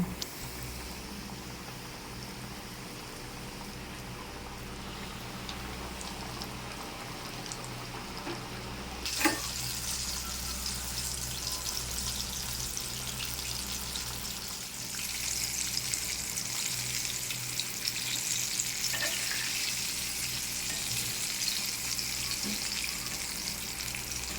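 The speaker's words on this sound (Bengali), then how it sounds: "তেল গরম হয়ে গেছে, চিকেনটা ভেজে নেব।" Chicken fries in hot oil for a KFC-style recipe, a steady hissing sizzle that holds throughout, with a sharp crackle burst near the middle and the bubbling growing brighter afterward.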